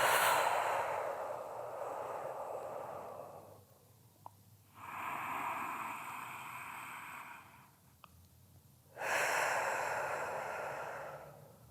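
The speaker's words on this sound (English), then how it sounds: "So breathe in. Exhale and over." Slow, deep breaths during a guided side-body stretch: long airy inhales and exhales in separate swells with short pauses between, close and soft, no talking.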